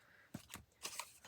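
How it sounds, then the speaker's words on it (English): Scissors trim paper ephemera in a quiet crafting setting, giving a few short crisp snipping sounds, close and clear, with no talk. "I'll just cut them with my scissors"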